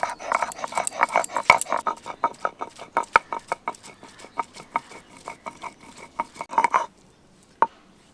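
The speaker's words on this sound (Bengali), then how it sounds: "এখন এই তিনটেকে একসাথে বেটে নেব" Whole cumin, radhuni and a piece of ginger being ground together into a spice paste for Bengali shukto make steady, rhythmic knocking strokes about twice a second, close and fairly loud, stopping near the end with one last knock.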